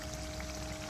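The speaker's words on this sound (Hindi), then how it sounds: "अभी मैं इसमें ऐड कर दूँगी अपना ग्रीन मसाला जो कि हमने रेडी करके रखा हुआ था" Green masala paste pours into a mutton Afghani gravy, a soft continuous wet pouring hiss, brief and close, with no voices.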